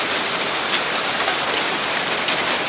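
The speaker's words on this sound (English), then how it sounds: "It is hailing, bro. These are like rocks." Hail pours down outdoors in a steady, dense hiss of hard icy pellets striking surfaces, loud and unbroken, with no voices.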